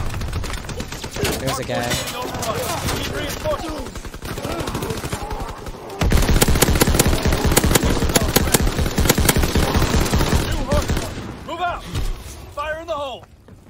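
Automatic gunfire from Call of Duty, with bursts throughout that turn into a denser, louder stream of rapid shots partway through, under a player talking over it.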